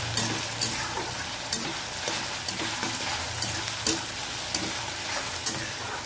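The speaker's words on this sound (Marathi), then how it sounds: "दोन मिनिट पर्यंत परतून घ्यायचं त्याला," Chopped onion and green chillies sauté in hot oil for egg bhurji, giving a steady sizzle broken by regular scraping clicks and taps from a spatula stirring the pan, close and fairly loud with no talking.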